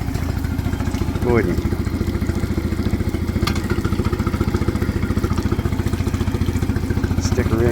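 Suzuki DF20A outboard motor with its covers on, running at a steady fast idle with a close, even, rapid chugging pulse, while someone talks briefly over it.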